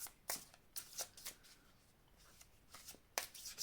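Tarot cards shuffled and handled close up during a reading, with several soft papery riffles and flicks separated by short pauses, quiet and with no talking.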